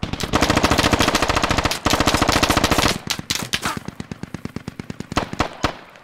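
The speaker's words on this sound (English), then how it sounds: "He doesn't see us, he's just shooting." Sustained automatic machine gun fire in the military shooter game Squad, a rapid steady stream of loud shots that breaks into scattered shorter bursts and single cracks toward the end.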